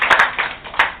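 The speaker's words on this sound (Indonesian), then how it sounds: "Tepuk tangan untuk panitia." A few sharp claps ring out close by at an ISKCON event in Indonesia, three or four quick claps in an uneven rhythm, briefly and loudly.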